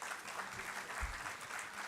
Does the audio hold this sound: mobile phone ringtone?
no